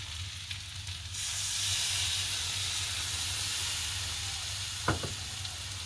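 Tamarind water goes into a prawn curry in a hot pan, swelling a steady close hiss and sizzle of steam that holds for several seconds, with a couple of faint utensil clicks near the end.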